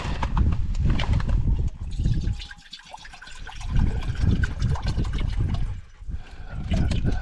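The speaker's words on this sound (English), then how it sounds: "Hey, Cody, go pour this water out and get you fresh" Stale, slobbery water poured out of a dog's bowl outdoors after a day of hunting with a golden retriever, a splashing, trickling pour with other movement noise around it.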